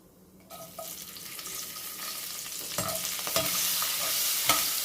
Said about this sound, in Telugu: ఇవి కొద్దిగా ఫ్రై అయ్యి ఆవాలు కొంచెం ఆడుతున్నప్పుడు మనం ఇందులో కొద్దిగా వెల్లుల్లిపాయలు వేసేద్దాము